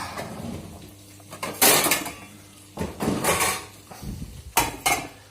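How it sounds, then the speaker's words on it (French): A small metal lid is set onto a pan of leeks, onions and bacon, producing several sharp clanks and clattering knocks in irregular succession, close and fairly loud, with no talking. "on va couvrir avec un petit couvercle"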